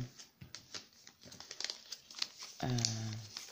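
A gift package is unwrapped, its paper crinkling and rustling softly in quick bursts before a voice begins speaking near the end.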